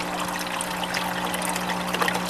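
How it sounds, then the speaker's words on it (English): Siphoned water splashes steadily against the side of an aquaponics tank, stirring up air bubbles as it pours in; a continuous, even trickling wash runs throughout. "As the water splashes on the side of the tank, it creates air bubbles and helps to aerate the water."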